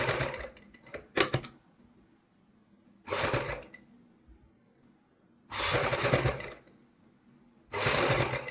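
A sewing machine stitches piping around a curved neckline in short bursts, close and steady, with pauses of near silence between runs.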